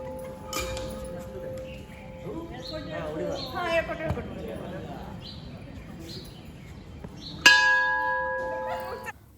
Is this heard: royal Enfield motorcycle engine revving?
no